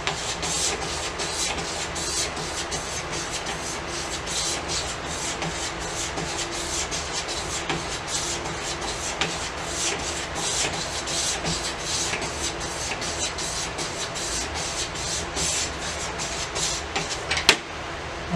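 A hand-forged knife blade is stropped on a strop to remove the burr, giving a continuous close rubbing and swishing sound in steady repeated strokes with no talk.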